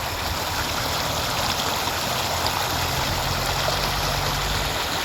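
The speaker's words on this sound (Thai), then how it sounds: "ดูครับ น้ำแรงไม่แรงครับ นี่แรงมากครับ" Strong water gushes from a 6x20-foot stainless steel pump pipe driven by an RT125 engine, a loud, constant roaring rush with no pauses.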